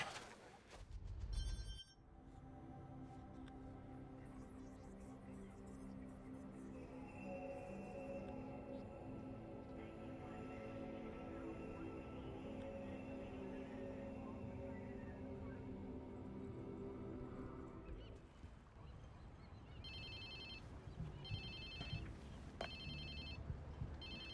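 A phone ringing in Watch Dogs 2, a faint repeating electronic ringtone over quiet game ambience, with ringing pulses most distinct near the end.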